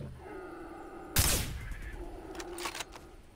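A single loud gunshot in Far Cry 3, fired while hunting tapirs in the jungle, cracks out sharply and then fades, followed by a few fainter shots and rustling game sounds.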